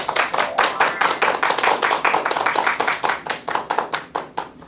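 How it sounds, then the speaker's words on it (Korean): An audience at a lecture on hormone health claps steadily in a dense, rhythmic patter of many hands, holding even for several seconds before thinning out at the end; no one speaks. "큰 박수 부탁드립니다."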